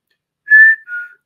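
Someone whistles two notes, a higher one then a slightly lower one, mimicking a black-capped chickadee's call. It is brief and clear, with nothing else around it.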